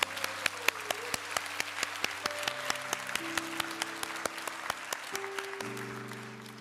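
A church congregation applauding together in a welcome during worship, a steady clapping crowd with distinct sharp claps popping out, while sustained organ-like notes shift beneath.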